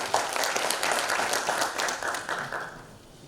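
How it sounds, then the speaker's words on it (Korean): Audience applause welcomes the Jeongeup mayor to the podium at a cultural center anniversary ceremony, a dense burst of many hands clapping that fills the hall and tapers off near the end. "뜨거운 박수 부탁드리겠습니다"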